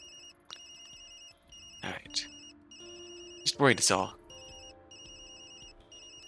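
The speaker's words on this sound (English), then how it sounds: "Maybe that's my phone." A telephone rings with a steady electronic tone in the video game Tokyo Dark, pulsing on and off across the clip while people speak over it.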